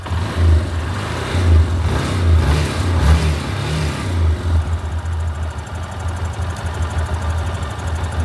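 A Yamaha Lander 250 motorcycle engine, under test for not charging its battery, runs close and loud. Its rhythmic low thumping rises in a few revs and then drops back to a steadier idle.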